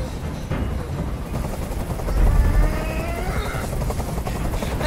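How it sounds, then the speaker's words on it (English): Helicopter hovering nearby in the video game Detroit: Become Human, a continuous rapid rotor thumping that swells louder midway, with a voice faintly present underneath. "I can't stand that noise anymore. Tell that helicopter to get out of here."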